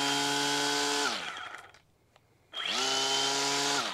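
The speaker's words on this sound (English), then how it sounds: "You push the power, that activates the trimmer. So then now you're ready to go ahead and squeeze the trigger." An Echo DSRM-2600 56V battery string trimmer whines at high speed, spins down to near silence for about a second, then spins back up to a steady, loud electric hum close by, with no speech.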